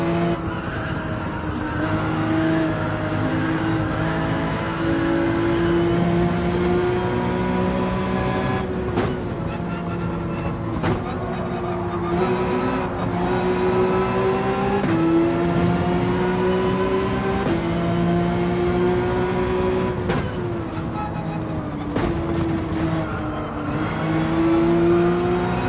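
A race car engine in Gran Turismo 7 drones loudly and without a break for the whole stretch, rising and falling in pitch through gear changes, with a few sharp shift or tyre clicks.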